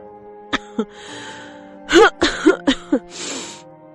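A child gives a few light coughs and gasping breaths, short separate bursts followed by a quicker cluster and a breathy sigh, close and clear against a quiet background.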